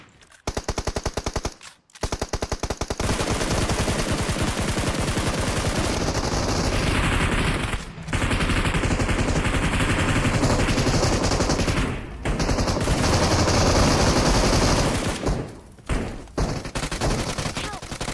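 Automatic gunfire in the mobile battle-royale game PUBG Mobile rattles in long, loud, continuous bursts, broken by a few brief pauses, with players' voices occasionally under it.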